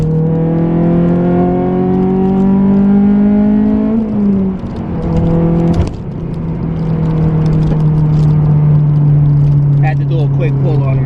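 A Honda S2000 pulls hard at night, its engine note rising steadily through the revs, with an upshift midway, then climbing again loud and close from inside the car, with a voice speaking briefly over it.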